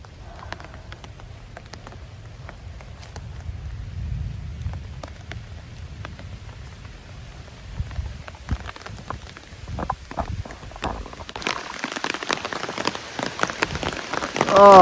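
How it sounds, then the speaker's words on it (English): Heavy rain pours onto a bivy-style tent outdoors, a dense steady patter that starts low and builds into a loud, close downpour drumming on the fabric near the end. "Oh, it is pouring, guys. Pouring."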